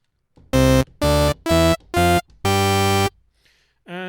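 SynthMaster 3 software synth in its digital mode without drift: four short, bright, buzzy notes separated by gaps, then one longer held note, loud and steady. A brief voice enters at the very end.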